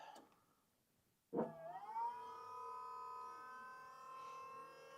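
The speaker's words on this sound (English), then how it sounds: "Turn on power steering pump." A power steering pump on a Sherp amphibious all-terrain vehicle starts with a sharp onset, then settles into a steady, sustained whine that holds level for several seconds, running alone without talk.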